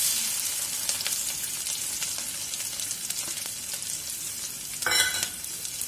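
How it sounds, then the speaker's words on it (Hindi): Ginger garlic paste and chopped chili frying in hot oil give a steady, close sizzle with stirring, topped by a brief louder burst near the end. "तो हमारा ये तेल गर्म हो चुका है, इसमें डालेंगे अदरक लहसुन का पेस्ट और कटी हुई मिर्ची साथ में"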